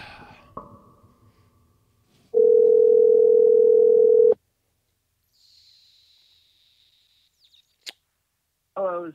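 A telephone call is being placed: one long, steady ringback tone lasts about two seconds, followed by quiet with a few faint electronic chirps and beeps.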